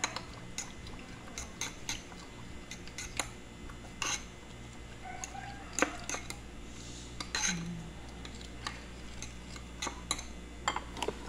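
Kangkong salad being mixed with honey in a bowl, with scattered light clinks and soft wet stirring sounds at close range, fairly quiet.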